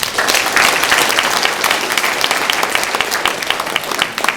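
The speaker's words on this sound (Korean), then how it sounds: "박수 한번 쳐주십시오." A hall full of delegates at an association orientation gives a round of applause, a loud, dense and sustained patter of clapping with no talking.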